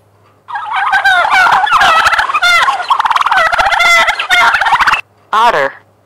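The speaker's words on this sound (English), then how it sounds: "Turkey." A turkey gobbles loudly and close by in a long rapid rattling burst, followed by a brief pause and one more short gobble.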